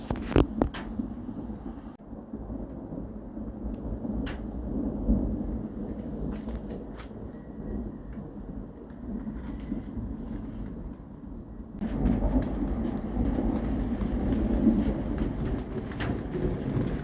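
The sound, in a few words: thunder and rain of a storm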